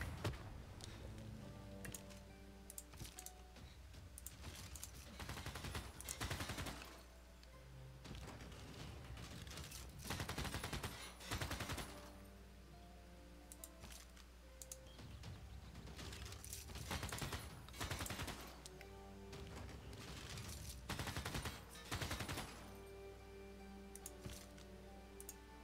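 Repeated bursts of unit fire and impacts striking a city in Civilization VI, clustered volleys every few seconds over a steady game music bed, fairly loud throughout.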